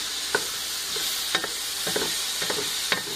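Seasoned vegetables are stirred in a dish, giving several short scraping clacks spaced about half a second apart over a steady hiss. Sounds are close and moderate, with no talking.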